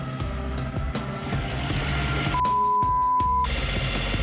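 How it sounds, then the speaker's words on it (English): A failing gearbox on a motoring boat drones loudly with a steady engine hum, joined by a sustained whining tone for about a second midway, then the mechanical churn carries on. "we hear our gearbox failing"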